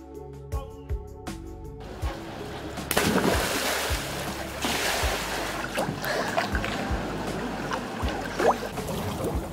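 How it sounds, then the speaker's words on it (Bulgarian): Sea waves wash and roar steadily near a beach villa on the Lombok shore, the surf sounding close and fairly loud, with some wind across the microphone. Low thuds and rhythmic knocking come first. "Вилата ни е само на метри от морските вълни."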